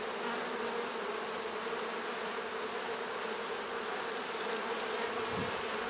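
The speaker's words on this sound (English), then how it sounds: "Again, there's just so many bees" Honey bees swarming over an opened hive during inspection, a dense, continuous buzzing hum that stays level and fills the whole stretch, with no voices.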